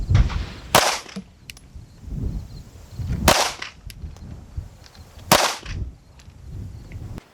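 Three sharp pistol shots from a SIG P320 fitted with an X-Carry grip, fired at a target roughly 10 to 12 yards away, evenly spaced about two seconds apart, each loud crack trailing into a brief outdoor echo.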